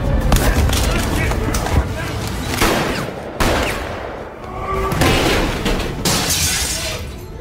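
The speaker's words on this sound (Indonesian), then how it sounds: "Santo mendengar suara tembakan." Gunfire in an action film fight scene, sharp shots and bursts recurring across the clip amid crashes and other loud scene sounds, with voices in the mix.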